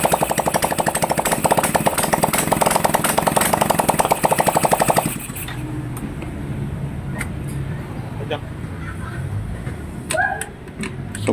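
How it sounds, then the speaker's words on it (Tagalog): A small engine with no exhaust muffler, still running after its battery is removed, rattles loud and fast for about five seconds and then cuts out, leaving quiet background with scattered clicks and knocks. "Maandar na, walang tambotso pa yan."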